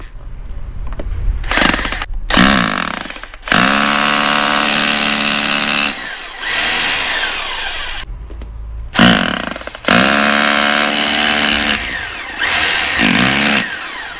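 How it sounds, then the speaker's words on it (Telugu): A power drill bores holes to mount a helmet holder, whining in several loud bursts separated by brief pauses, close up. "సో చూడండి డ్రిల్ అయితే వేస్తున్నాం."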